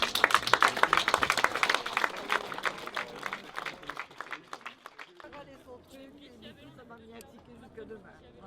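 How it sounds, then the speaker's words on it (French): Audience applause with sharp, scattered claps, loudest at the start and thinning out to fainter clapping as people begin to talk over it. "On peut encore les applaudir."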